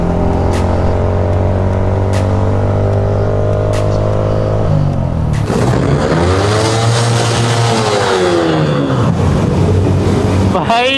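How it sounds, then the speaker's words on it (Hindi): A motorbike is ridden with an engine droning steadily at near-constant pitch, then revving up and down in sweeping changes of speed, loud and close throughout with faint clicks early on. "अब भाई साक्षी अकेले चलाएगी बाइक प्रशांत भाई की, ठीक है?"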